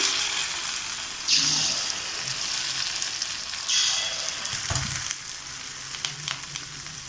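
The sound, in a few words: rava paniyaram batter sizzling in hot oil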